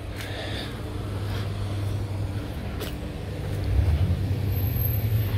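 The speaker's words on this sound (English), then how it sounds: "UPS truck." A UPS delivery truck rolls along a downtown street in Melbourne, Florida, under a constant traffic hum. Its engine rumble swells louder partway through as it passes nearby.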